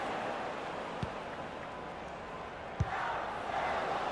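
A stadium crowd in the video game FIFA 19 murmurs in a broad, steady roar, swelling slightly near the end, with a couple of short thuds from the pitch and no clear speech.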